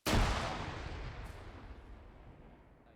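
Fragmentation grenade explosion in a military squad-training video game: a single sharp, loud blast with a heavy low thump, then a long rumbling decay that fades over a few seconds, heard alone.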